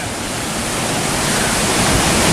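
High Force waterfall near Middleton-in-Teesdale pours with a loud, steady, broadband roar of rushing water that swells slightly, with no voices over it.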